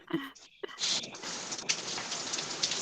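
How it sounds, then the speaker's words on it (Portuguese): Rain falls in a steady, dense hiss on surfaces, close and continuous after a short quieter opening. "muito obrigada pela chuva que cai, Senhor"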